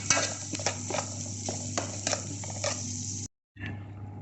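Food sizzles in a hot pan while a utensil stirs and scrapes in repeated strokes, with a brief drop to silence near the end.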